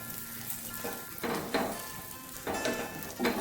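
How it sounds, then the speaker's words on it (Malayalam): Bread masala sautéing in a pan, with a steady soft sizzle broken by several scraping stir strokes at irregular intervals, close and moderately loud, with no voices. "നമ്മളിങ്ങനെ ഇടയ്ക്കിടയ്ക്ക് ഇതിങ്ങനെ നല്ല വഴറ്റി കൊടുക്കണം"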